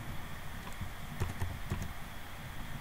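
Someone types a name on an English-layout computer keyboard, a short run of soft key clicks in a burst of taps over a steady room hiss, with no talking.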